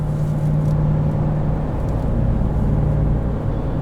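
A 2022 Ram 1500 TRX pickup with a pulley swap and resonator delete cruises on a highway, a steady low rumble of engine and road noise from inside the cab, with no talk.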